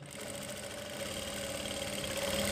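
A sewing machine runs steadily while stitching a girls' designer top, giving a continuous, fairly loud mechanical whir that holds even throughout with no talk over it.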